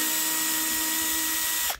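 A cordless drill/screwdriver runs in reverse to back a screw out of its holes, a steady, loud whirring motor whine held under very light pressure before it cuts off abruptly.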